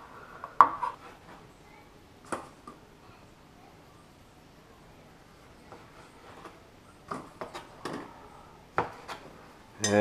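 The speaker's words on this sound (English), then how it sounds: "cherry tomatoes, just going to slice them down the middle" A knife halves cherry tomatoes on a board for a squid pasta, giving sparse, soft tapping cuts spaced several seconds apart in a quiet room.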